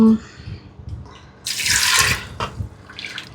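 Water is poured into a cooking pot holding chopped tomatoes for a green gram sambar: a single loud, splashing burst lasting about half a second, then softer trickles, with quiet kitchen noise around it.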